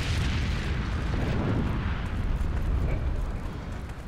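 A grenade goes off in the World War II shooter Heroes & Generals, a loud, sustained rumbling blast that fills the whole stretch and slowly fades at the end.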